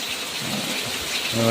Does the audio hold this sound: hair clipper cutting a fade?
no